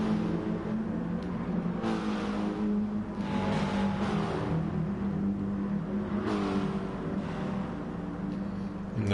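Race cars in an FIA Nations Cup racing video game, a pack of engines droning and revving with rising pitch sweeps and a few passing surges, steady and fairly loud throughout.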